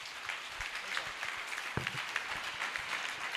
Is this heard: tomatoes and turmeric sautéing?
no